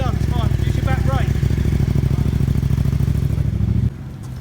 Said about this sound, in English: There's the Ducati and the Honda.